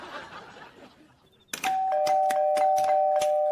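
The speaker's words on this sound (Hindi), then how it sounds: "इतनी रात को शरीफ आदमी के घर की घंटी बजा रहा है?" A doorbell rings with a series of bright chimes, a short rustle before it, and the tones ring out at close range.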